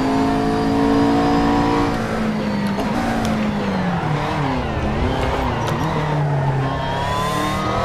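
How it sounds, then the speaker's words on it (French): A McLaren MP4-12C GT3 in Assetto Corsa, lapping Circuit St-Jovite at Mont-Tremblant, its engine loud and sustained as pitch slides down and wavers through a drift, with tire squeal and skidding layered over it. "Oh mon Dieu, big drift!"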